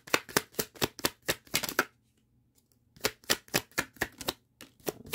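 Tarot cards are riffled and shuffled in quick bursts of crisp papery slaps, a brief pause, then another run of shuffling, close and clear with no talking.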